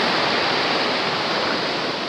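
A jungle river in Puerto Rico rushes loudly and steadily as a broad, continuous wash of water noise, close by and with no voices.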